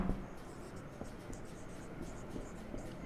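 Chalk or marker scratching across a classroom board during a physics lesson, faint, quick irregular strokes and taps in a quiet room.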